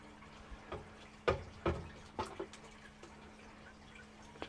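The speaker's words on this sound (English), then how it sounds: "I've got my trusty watering can. I'm just going to just generally dampen the soil." A trusty watering can pours water over very dry garden soil to dampen it, giving a series of soft splashes and drips in uneven bursts, close by and moderately quiet, with no talking.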